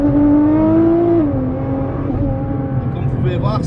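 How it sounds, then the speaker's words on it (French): Nissan GTR with rolling antilag held at full throttle, the engine droning at a steady high pitch that dips slightly as the gear preloads, under someone speaking. "On appuie sur le bouton vers le bas, on met les gaz à fond et vous allez voir qu'on va précharger le rapport."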